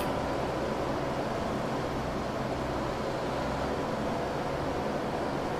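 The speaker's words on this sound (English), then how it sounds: "Started an engine up." An engine runs in The Dark Mod, a steady, loud mechanical roar with a broad noisy hiss that holds constant throughout with no pauses.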